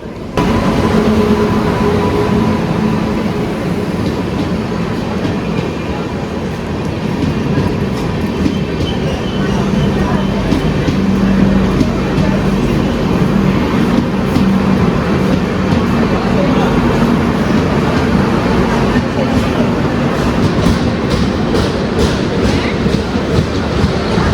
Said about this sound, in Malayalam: അങ്ങനെ നമ്മുടെ ജാംനഗർ എക്സ്പ്രസ് ഇവിടെ തൃശ്ശൂർ എത്തിയിട്ടുണ്ട്.